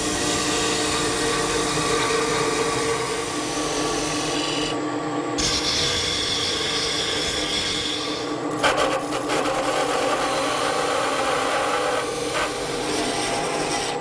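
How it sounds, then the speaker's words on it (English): Skew chisel cutting a bead into spinning wood on a lathe, a sustained close rasping, rubbing hiss with brief breaks as the tool lifts and re-engages, no talking. "Now I'm switching to a skew chisel, because my gouge won't fit in this corner. So I'll make a cut in, and a couple cuts will complete the bead."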